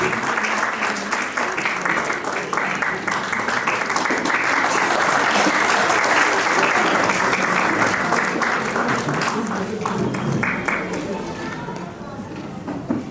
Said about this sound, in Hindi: पीछे से पीछे से पीछे से ताली बजाइए